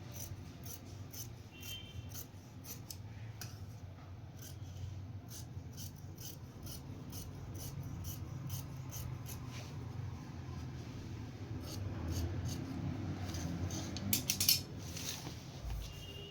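Scissors cut through blouse lining fabric with a steady, soft rasping snip, repeated close and continuous under faint background hum, with a brief clatter near the end.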